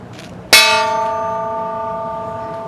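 A large metal estate bell, once rung to summon plantation workers, struck once lightly and left to ring out, its bright clang decaying into a long sustained hum.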